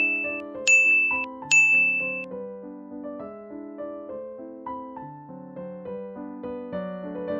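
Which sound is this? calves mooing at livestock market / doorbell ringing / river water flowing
doorbell ringing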